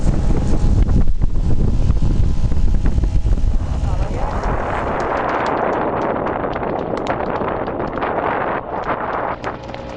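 Strong wind buffeting the microphone with rough low rumbling gusts on a sunny day by water in Ireland, easing slightly into a steadier hiss of blowing air outdoors.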